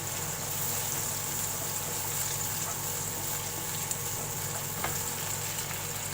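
Garlic ginger paste frying in oil in a pan, a steady, moderately loud sizzle with faint stirring clicks and occasional small pops, continuous with no speech.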